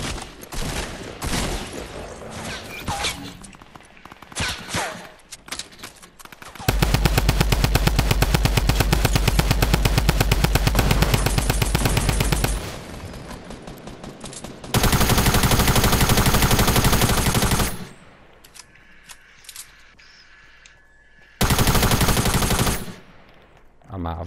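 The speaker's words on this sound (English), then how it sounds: "I'm not hitting any of my shots." Fortnite video game gunfire: long bursts of loud, rapid automatic shots alternate with stretches of quieter scattered firing and game noise, the heaviest volleys sustained for several seconds at a time.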